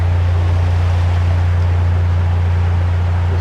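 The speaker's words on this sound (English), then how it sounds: "The sound is just reverberating from the engine inside the lock." A narrowboat engine rumbles inside a canal lock, giving a loud, steady low drone that holds unchanged and close by with no break.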